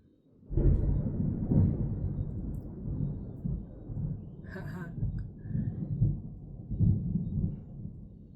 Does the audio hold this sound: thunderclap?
yes